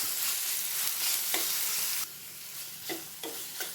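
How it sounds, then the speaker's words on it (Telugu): Tomato pieces frying in a pan for gongura chicken produce a bright, hissing sizzle that drops suddenly halfway, followed by quieter sizzling and a few spoon scrapes against the pan. "దీంట్లోకి టమోటా ముక్కలు వేస్తున్నాం"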